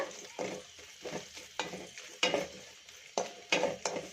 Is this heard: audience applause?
no